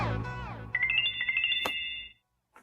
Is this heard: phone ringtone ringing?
yes